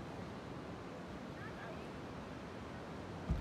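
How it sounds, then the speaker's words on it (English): Ocean waves wash in at sunset, a soft continuous rush of surf with wind noise on the microphone and a faint thump at the very end. "We got the waves out"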